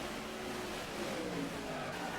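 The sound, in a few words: race car brakes locking up, NASCAR Inside Line video game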